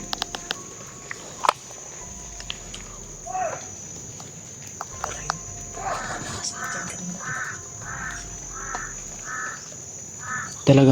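Several harsh crow caws repeat in a steady series midway, over a constant insect drone and faint outdoor background, with a sharp knock near the end.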